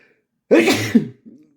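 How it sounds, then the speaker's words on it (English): A single sharp sneeze, loud and close, with a brief breathy tail afterward. "I'm really sorry for that sneeze"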